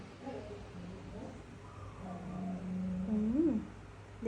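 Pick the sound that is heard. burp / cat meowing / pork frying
cat meowing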